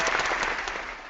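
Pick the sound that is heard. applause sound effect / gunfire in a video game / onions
applause sound effect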